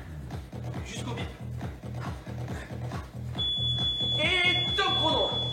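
A steady electronic workout timer beep sounds near the end, over a pulsing rhythmic music beat that runs throughout.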